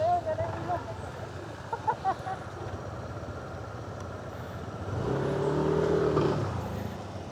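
Motorcycles near a motocamping site in Tanay, Rizal, Philippines idle, then one or more engines rise into a louder revving drone for a couple of seconds, heard from nearby beneath people talking.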